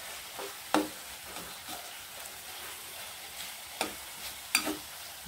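A spoon stirs Bicol Express in a pan, a soft steady sizzle broken by a few sharp scraping clinks against the metal, close and fairly quiet.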